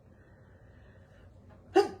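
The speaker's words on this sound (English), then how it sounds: "I feel like I need to sneeze." One short, sudden human sneeze bursts out near the end of a quiet indoor stretch, close to the microphone.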